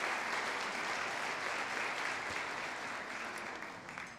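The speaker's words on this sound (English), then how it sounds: "So round of applause for Verona Coffee and Hillary Elliott." Sustained applause from a crowd at a donor appreciation luncheon, steady clapping that fills the room and slowly tapers near the end.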